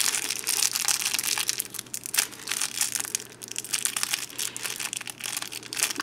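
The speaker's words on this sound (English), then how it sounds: "I think the inside packaging might be harder than the outside package to open" Plastic packaging around a Teenage Mutant Ninja Turtles movie dogtag being torn and crumpled open, a dense, continuous crinkling and crushing close by, steady throughout with no speech.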